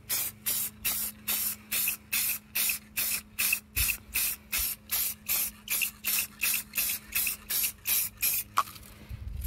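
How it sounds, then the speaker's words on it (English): Repeated short hissing bursts of a spray paint can, evenly spaced in a steady rhythm, close and clear, with a faint rattle near the end. "So, shake it up and just more spray painting."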